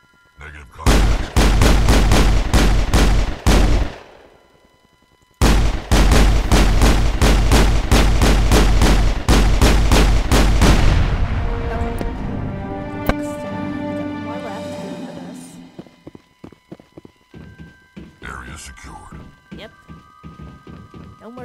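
Gunfire in Mass Effect, two long runs of rapid, evenly spaced shots separated by a short pause, loud and close, then fading into ringing tonal effects and scattered later impacts.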